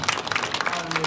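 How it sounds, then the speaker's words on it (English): An audience at a school band end-of-year concert claps for the parents, a brief burst of dense applause with talk-like sounds mixed in. "Students, give your parents a round of applause."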